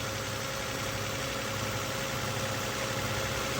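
A 2007 Toyota Solara 3.3 L engine, just back from a timing belt repair, idles with a continuous, dense rumble that is close and loud throughout, with no talk over it.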